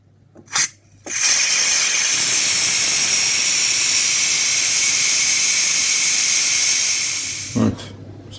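A Ninja Foodi pressure cooker vents steam in a loud, steady hiss that starts abruptly after a couple of clicks, holds for about six seconds, then cuts off with another click, close and alone.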